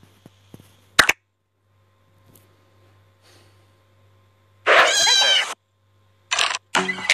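Cat meows in the Cat Simulator video game, a short sharp sound early on, then a loud drawn-out meow followed by two shorter meows near the end, close and clear with no talking.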